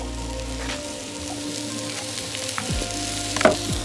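Raw potatoes with pressed garlic fry in a pan with a soft, steady sizzle and crackle, broken by a few light clinks near the end; fairly quiet and close.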